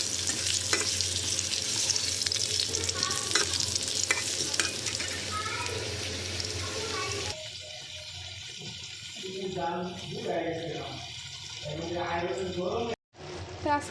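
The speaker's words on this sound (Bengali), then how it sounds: "আর এদিকে পাশের চুলায় এই যে আলুগুলো ভাজতে দিয়ে দিয়েছি," Potatoes frying on a stovetop burner give a steady close sizzle with stirring scrapes; partway through, the sound shifts to a clearer, crackling fry with light clatter, then cuts out briefly near the end.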